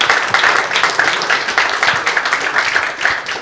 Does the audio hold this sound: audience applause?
yes